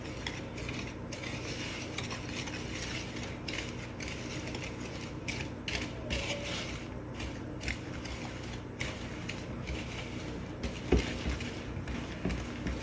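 Spoon stirring a no-bake Snickers cheesecake mixture with half a cup of cold water in a bowl, giving steady repetitive scraping and clicking close by, with a louder knock near the end and no talk.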